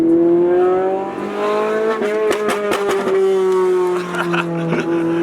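A sports car engine revs and drones loudly up close, punctuated by a rapid series of sharp exhaust pops and crackles.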